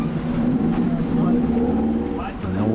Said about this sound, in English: At the dive site, the captain revs the boat's engines.